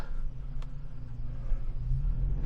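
A 2024 Toyota 4Runner TRD Pro crawls through mud off-road in four-low, its engine a low steady rumble with a slight surge near the end and a brief faint click early on.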